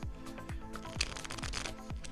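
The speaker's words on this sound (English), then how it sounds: "maybe some riffle shuffles" Playing cards riffle-shuffled repeatedly during card magic practice, a series of quick crisp ripples, each ending in a soft snap, close and fairly quiet.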